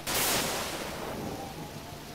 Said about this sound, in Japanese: 嵐ですね。